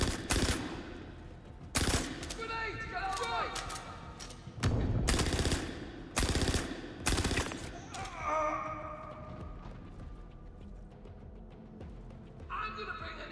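Pistol gunfire in a video game, rapid bursts of sharp shots in several volleys, with softer game effects and occasional impacts between them, and a voice talking in the gaps.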